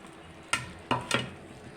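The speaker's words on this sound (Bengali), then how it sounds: "দেখুন পানিতে বলক চলে এসেছে, আমি সবগুলো মাছ দিয়ে দিব।" Pieces of rohu fish go into boiling water for a curry: three sharp splashing plops land in quick succession over a soft background of bubbling, close and fairly loud, with no voices.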